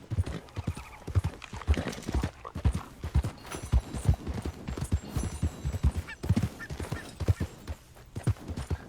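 Horse hooves in the video game Red Dead Online, a brisk run of close clip-clop beats in a steady riding rhythm, with a few soft whinnies mixed in.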